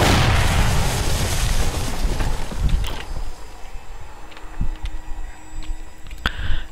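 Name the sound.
TNT explosive trap detonating, 7 Days to Die video game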